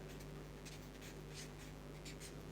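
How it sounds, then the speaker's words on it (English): Chalk or marker scratches faintly across a board during a lecture, with short scraping strokes over a steady room hiss and no speech. "So, let me write here."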